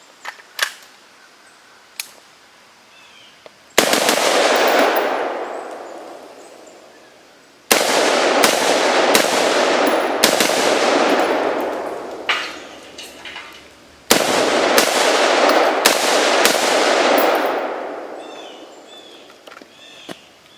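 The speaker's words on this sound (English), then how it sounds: "I forgot this thing shoots a little bit high" A handgun fitted with a tritium front sight fires a few sharp, loud shots outdoors at intervals, each followed by a long echoing decay, with faint small clicks in between.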